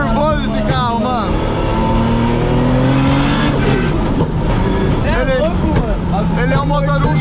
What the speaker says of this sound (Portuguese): Ele é um motor 1JZ, tá ligado?